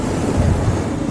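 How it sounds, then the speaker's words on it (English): Heavy wind roars and buffets the microphone while riding a Honda Dominator 650 motorcycle along Lake Maggiore, a loud continuous rumble with no voices. "It's super windy."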